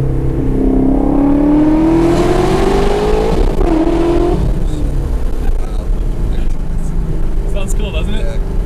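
Ford Shelby GT350 Mustang V8 revving inside a tunnel, a loud rising engine roar with echoing exhaust that climbs in pitch, then settles into a steady rumble with voices talking over it.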